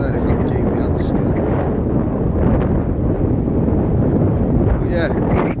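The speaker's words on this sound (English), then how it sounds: "You can see just how windy it is with them flags up there" Strong wind blowing on the beach at Cleethorpes, a loud constant roar buffeting the microphone without letup, with faint voices briefly under it.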